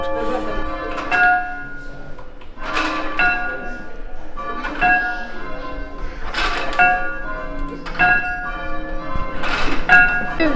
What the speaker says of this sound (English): This is basically a model bell, so it's still ringable